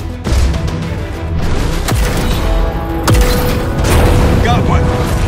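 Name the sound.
gunfire and explosions in the video game Phantom Brigade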